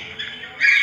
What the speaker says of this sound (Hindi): तो ये तोता है